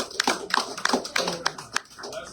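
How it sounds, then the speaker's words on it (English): A small audience gives a short round of applause, with sparse, uneven claps standing out sharply in the room. "A round of applause."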